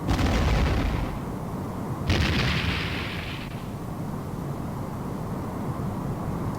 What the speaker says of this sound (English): Torpedo away.